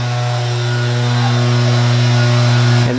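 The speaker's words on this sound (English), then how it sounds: "I just sanded this down with a random orbital palm sander" A random orbital palm sander with 180-grit paper works over a Jeep Grand Cherokee bumper, its motor droning loud, close and continuous with a steady whining hum that barely wavers before easing slightly at the end.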